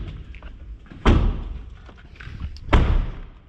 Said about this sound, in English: let me close these two doors